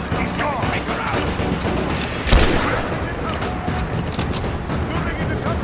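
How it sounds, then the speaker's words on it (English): Dense gunfire in the Rise of the Tomb Raider video game: a continuous, noisy firefight with one sharper crack partway through and voices calling out in the middle of the combat. "Give me covering fire! Laying down covering fire!"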